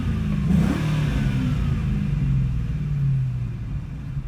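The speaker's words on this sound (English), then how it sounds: "I can do a little bit of revs for you." Engine revs from a warm 2001 Ford Mustang Bullitt, heard loud and close with the window open, a steady deep rumble that swells in a couple of throttle blips before easing off.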